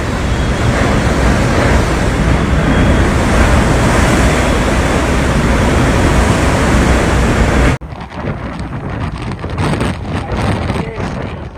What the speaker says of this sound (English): Storm Éowyn erupted across Ireland and the United Kingdom with unparalleled meteorological violence